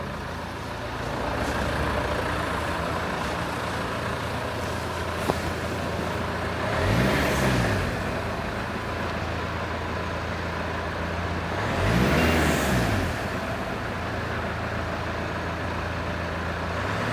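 A cold vehicle engine idles with a steady low rumble, then is accelerated twice in short revving bursts that rise and fall, heard close and alone.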